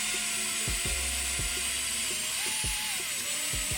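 A power tool whirs steadily while stripping old 3M adhesive tape from a BMW M4 wheel barrel, with a sharp repeated clicking and knocking of the tool against the rim, close and constant.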